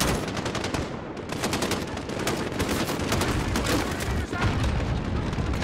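Machine gun fire in Call of Duty: Modern Warfare during an indoor house raid: rapid, loud bursts of automatic gunfire with sharp repeated reports and brief gaps, under faint background game voices.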